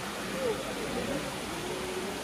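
Water pours down the Akashganga waterfall at Tirumala as a steady, dense rush that holds an even level throughout, with a faint voice briefly mixed in.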